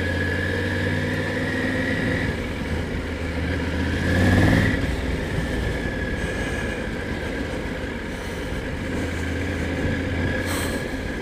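Triumph Tiger 900 GT Pro motorcycle engine pulling steadily after a quickshift into second gear, a continuous close droning hum with a brief swell of wind and engine rush midway.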